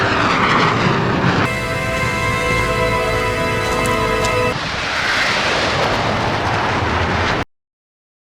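Jet aircraft roar across the sky over Texas in a film scene, a loud sustained rumbling rush with a whining tonal stretch in the middle, ending abruptly in silence.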